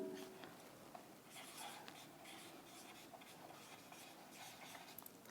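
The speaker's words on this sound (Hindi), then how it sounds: "मैं यहाँ क्या लिख रही हूँ?" Chalk or marker writing on a board during a math lesson, with soft scratchy strokes in short bursts and a quiet room behind them.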